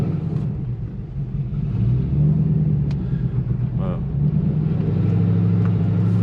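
Deep, steady engine rumble from a Ford Crown Victoria swapped with a 7.3L Godzilla V8 while driving, swelling slightly as it pulls, with someone speaking briefly over it.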